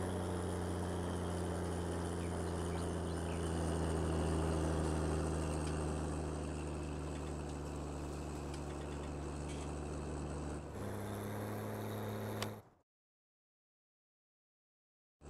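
A tractor engine idles steadily in Farming Simulator 19, a constant low droning hum that shifts pitch briefly near the end before cutting to silence.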